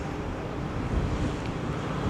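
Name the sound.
wind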